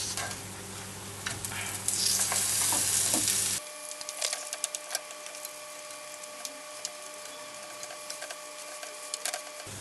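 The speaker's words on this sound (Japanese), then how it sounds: "両方焦げ目がつきましたら揚げていきます" Chicken fries in butter in a pan for a French chicken Marengo dish, a steady close sizzle that drops to softer crackles and pops partway through, with no voices.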